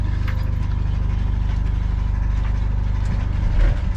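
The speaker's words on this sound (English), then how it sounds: "Fire up the engine." A sailboat's engine idles close by with a steady low rumble and even pulsing chug.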